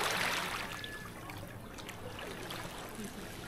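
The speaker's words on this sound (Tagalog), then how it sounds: "Habang nasa tabing dagat ay rinig na rinig mo ang hampas ng alon." Waves breaking on a white-sand beach on Paguriran Island make a steady, broad wash of surf that fades slightly from a stronger opening surge, loud and close with no voices.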